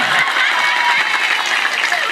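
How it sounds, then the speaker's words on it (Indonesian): Loud, dense audience applause at a village religious gathering in Indramayu, a steady wash of clapping that fills the whole stretch without pause. "Tepuk tangan."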